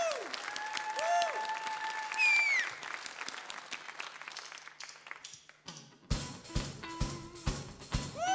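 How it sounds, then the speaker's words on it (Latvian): A concert audience bursts into dense, loud applause after a stretch of whistling and electronic stage sounds; the clapping rises abruptly and continues in uneven waves. "Aplausi! Aplausi!"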